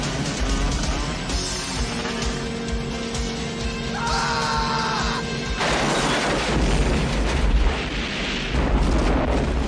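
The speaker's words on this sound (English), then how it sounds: "a stray missile from the chaser blows up a barrel line as they drive through the LA sign" Film explosion during a boat chase in Double Dragon as a missile blows up a line of barrels: a roaring blast and crashing debris over a dense, loud soundtrack, with a booming surge midway and continuing rumble.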